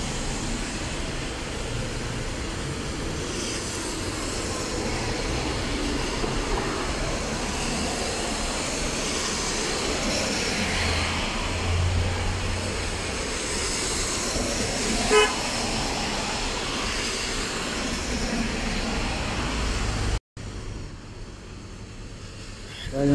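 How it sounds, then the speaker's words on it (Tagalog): A bus pulls into its station on a rain-soaked street in Riyadh amid steady traffic hiss and engine rumble, with short horn toots along the way and someone talking over the scene. "Yan yung bus, papasok na siya sa station niya."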